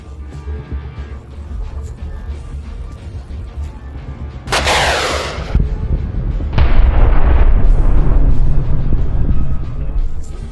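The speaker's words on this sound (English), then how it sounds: "another damaged Russian tank exploded, sending fire and shrapnel skyward" A damaged Russian tank exploding in a war zone, with a loud, sudden blast burst followed by a deep rumbling roar that swells and lingers, close and heavy, no talking.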